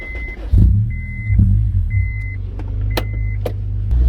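A Honda S2000 is heard from inside while driving, with a steady low engine and road rumble throughout, along with a few short electronic chimes and clicks.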